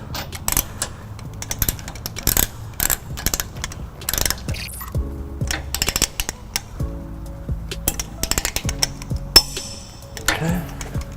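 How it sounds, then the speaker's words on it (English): Torque wrench ratcheting and clicking as trailer hitch bolts are tightened on a 2014 Lexus GX 460, with repeated short mechanical bursts and sharp clicks close by, under faint background noise. "you should hear your torque wrench give you a click"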